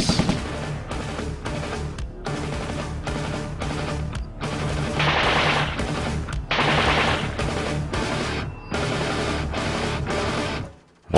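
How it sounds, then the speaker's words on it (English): A machine gun fires belts of bullets at a National Defence Academy range, loud close bursts of rapid shots in several long runs separated by brief pauses, ending abruptly. "fire a belt of bullets from the machine gun"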